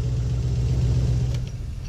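Car engine idling with one cylinder not firing, a steady low rumble with an uneven, lumpy pulse throughout, close and fairly loud.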